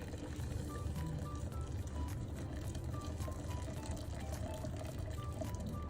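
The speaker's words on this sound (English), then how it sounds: "I like to stir as I'm pouring. Like a little constant stir." Water is poured steadily into a coffee press while the grounds are stirred, giving a continuous wet trickle and sloshing that runs close and even for the whole stretch, with no talking.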